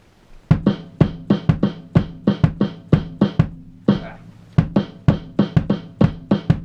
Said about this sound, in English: playing the offbeat triplets with the right foot playing the beats